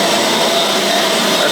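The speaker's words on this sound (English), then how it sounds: "gonna get this machine fired up and we're gonna grind this entire slab down" Concrete floor grinding machine running on a garage slab, a loud, steady broadband whir with no pauses and no voices.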